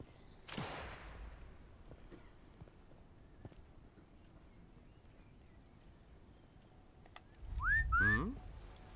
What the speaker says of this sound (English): If we can whistle and draw his attention everywhere.